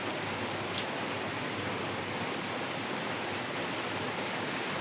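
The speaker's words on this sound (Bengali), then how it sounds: "অবশেষে বৃষ্টি নামা শুরু হয়ে গেল" Rain begins falling in a Bangladeshi village, a steady soft hiss of drops that holds evenly throughout with no voices.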